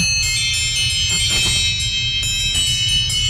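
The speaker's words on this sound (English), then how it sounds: "And the first one I found, wind chimes." A wind chimes alarm tone: bright, shimmering chime tones ring and sustain continuously, with light tinkling strikes layered over a low hum, fairly loud and close.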